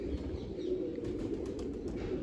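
Pet pigeons give low, continuous cooing nearby, a soft rolling murmur with faint higher chirps scattered on top and no voices.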